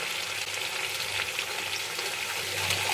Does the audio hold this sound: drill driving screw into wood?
no